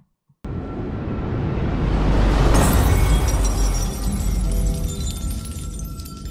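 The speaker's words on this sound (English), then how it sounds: "we have glass shattering, which is kind of the obvious thing you reach for this" A sharp burst of shattering glass, built as a bullet-impact effect for slow-motion gunfire, hits hard and loud and then rings out in a long bright scatter of falling shards.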